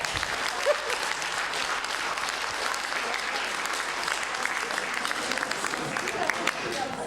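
Audience applause at a public-speaking event, sustained dense clapping from a crowd at even loudness throughout, with no break.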